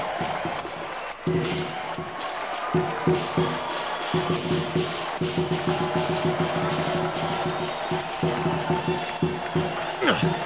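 Spectators cheer for a dancer who has just performed under a red lion head at a festive lion dance, a steady crowd roar mixed with voices and rhythmic percussion thumps throughout.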